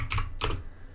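Two quick bursts of keystrokes on a computer keyboard as a command is typed while setting up software on a Raspberry Pi 4, close and clear with no talking.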